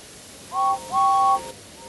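A cartoon steam engine's whistle from Thomas and Friends gives two short clear toots, the second longer, fairly close over faint background hiss.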